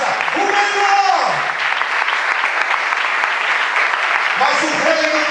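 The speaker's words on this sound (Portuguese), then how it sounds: "Eu quero que você levante as suas mãos e aplauda aquele que tem feito falar sobre a sua vida" A church congregation applauds in a steady, loud wash of clapping, while a preacher's voice rises over it at the start and again near the end.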